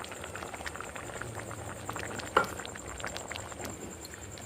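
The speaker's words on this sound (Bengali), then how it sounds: "দিয়ে বেশ কিছুক্ষণ ফোটাবো।" Vegetarian ghugni with water and gram flour simmering in a pot, a low continuous bubbling with a faint hiss and one brief clink partway through.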